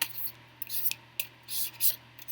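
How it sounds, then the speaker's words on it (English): Tarot cards being shuffled by hand in short, irregular bursts of crisp, papery rustling and riffling, close up, with quiet pauses between the shuffles. "Just going to shuffle here a bit more"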